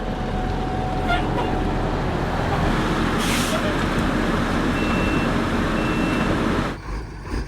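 A dump truck hauls off a farm manure pile, its heavy diesel engine a loud, steady rumble close by for most of the time, with faint reversing beeps and a short burst of noise, before the engine sound drops away near the end.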